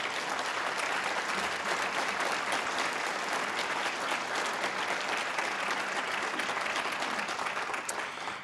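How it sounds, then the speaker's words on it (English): Conference audience gives a sustained round of applause for event sponsors at an AI and public policy gathering, dense steady clapping from a large crowd holding at full strength before tapering at the very end. "Please give all of them a much-deserved round of applause."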